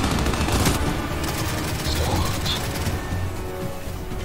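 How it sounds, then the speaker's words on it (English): Rapid gunfire in the Gears 5 video game during a co-op match, a dense, continuous burst of shots holding steady and loud throughout with no pauses. "Is that you up there shooting them?"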